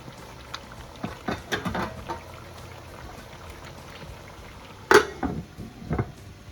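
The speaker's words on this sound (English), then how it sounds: "So I'll just mix them in and cover the pot" Ingredients for Uzbek pilaf are stirred in a pot, giving soft scraping and patter, and then a lid goes on with a sharp clank near the end, all close by with no talk.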